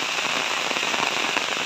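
Rain in Baybay, near Ormoc City, falls as a dense, moderately quiet patter and crackle of drops on a surface, steady and unbroken through the short stretch.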